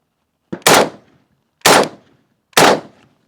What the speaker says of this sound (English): So this is going to be 3 rounds unsuppressed